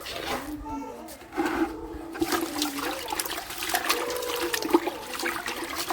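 Leafy greens are rinsed under a steady, close stream of running water that gushes and splashes throughout, while a person talks over it.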